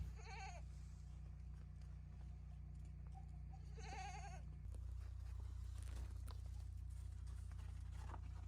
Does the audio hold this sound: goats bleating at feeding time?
yes